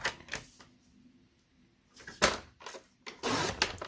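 Kraft paper cut to size with a paper trimmer: a few sharp clicks and slicing strokes close by, with a quiet pause between them.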